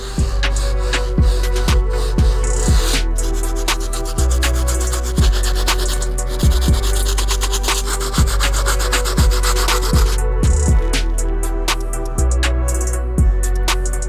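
A stiff-bristled brush scrubs a suede Nike Air Force 1 Wheat sneaker in loud, close, rhythmic strokes, roughly one rasping pass per second, with nobody speaking.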